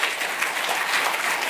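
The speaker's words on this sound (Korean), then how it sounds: "좋은 생각이면 좋다고 쌍수를 들어서 박수해봐요." Hall audience at an educational institute event claps together in a brief, loud, even burst of applause that lasts without a break.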